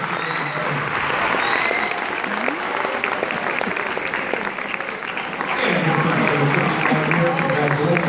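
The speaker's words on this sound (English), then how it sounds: "How about a round of applause for the recipient?" Audience applause at a school music festival award presentation, full and sustained clapping from a crowd that runs throughout, with a voice and some chatter heard over it near the end.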